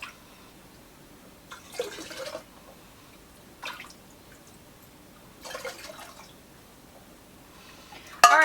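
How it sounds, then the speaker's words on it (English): Homemade organic chicken stock is poured into quart canning jars in several short, fairly quiet splashing pours separated by pauses. "So we're going to start filling up these quart jars."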